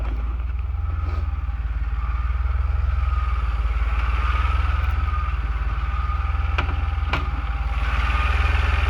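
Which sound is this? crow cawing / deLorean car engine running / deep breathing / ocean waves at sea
deLorean car engine running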